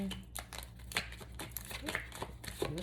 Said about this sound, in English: This is still one card shuffle.